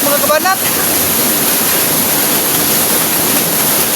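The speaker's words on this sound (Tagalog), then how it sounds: "dara naabot na ta sa waterfalls" Steady broadband rush of a waterfall in a rural mountain setting fills the scene, loud and close and unchanging throughout, with a brief voice-like chirp near the start.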